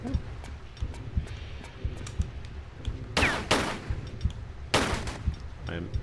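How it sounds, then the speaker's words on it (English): Gunfire aimed at an enemy in Tomb Raider III on PC, a steady run of quick pistol-like shots with two louder bursts of blasts, mixed with game sounds. "I'm definitely shooting at him."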